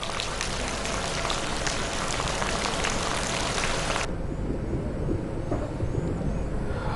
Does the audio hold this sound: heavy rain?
yes